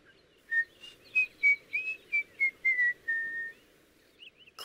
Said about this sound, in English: I just whistle, like so.